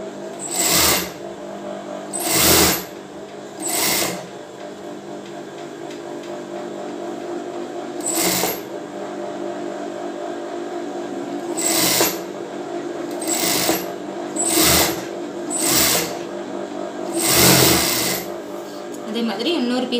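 A sewing machine stitches a bra seam in one continuous, close, loud run, punctuated by repeated sharp clacks at irregular intervals.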